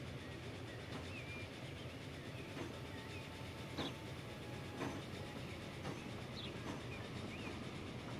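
A train in a railway video game rumbles through a station with a steady rolling drone, punctuated by regular clickety-clack beats from the wheels over rail joints and faint higher squeals, with no voices.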